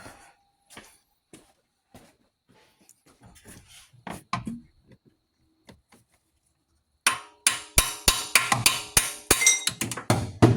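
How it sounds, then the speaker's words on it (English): Sparse metallic taps at first, then a rapid run of sharp hammer blows beating a socket onto a rusty bolt on a 2007 Cadillac Escalade power steering pump, loud and close, ringing slightly after each hit. "I'll get a hammer and kind of beat that on there."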